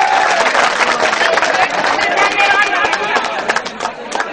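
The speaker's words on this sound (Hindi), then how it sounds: "एक बार जोरदार ताली हो जाए।" A crowd at an outdoor political gathering claps loudly and steadily, with scattered cheers and a murmur of voices mixed into the dense, continuous applause.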